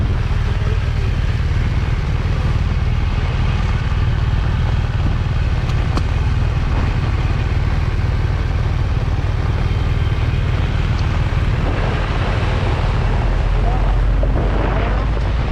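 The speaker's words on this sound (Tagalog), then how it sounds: "Kusog yung hangin, no?" Strong wind roars continuously into the microphone, a loud, unbroken low rumble with gusts, and faint voices now and then beneath it.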